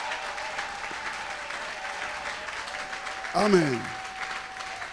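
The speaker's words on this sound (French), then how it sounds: "On acclame encore très fort le roi des rois." Church congregation applauding and cheering, a steady wash of many clapping hands with a brief vocal exclamation over it partway through.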